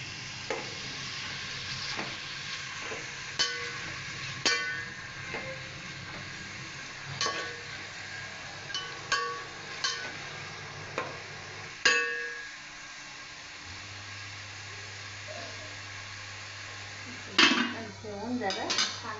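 Onions and tomato frying in a pan for chicken sukka masala, a soft sizzle under repeated clinks and scrapes of a spoon stirring against metal, with a steady hum in the background.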